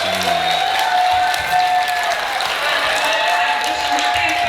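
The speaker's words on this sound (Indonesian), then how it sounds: "tepuk tangan" Applause from listeners at a Sunday morning religious study gathering in Ponorogo, East Java, a continuous wash of many hands clapping that fills the short stretch evenly at moderate loudness, with tonal sounds running beneath it.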